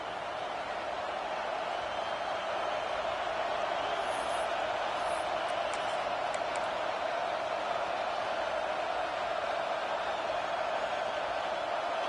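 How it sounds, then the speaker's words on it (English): A loud football stadium crowd at a Gators versus Tigers game, a dense continuous roar that stays steady and heavy throughout, with faint whistle-like tones breaking through briefly in the middle. "with this place rocking, the crowd forces a false start"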